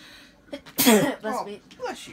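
A single loud sneeze bursts out near the mic, followed by a few short voiced sounds like talk or a reaction.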